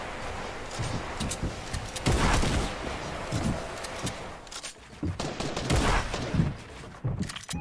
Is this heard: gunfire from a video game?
yes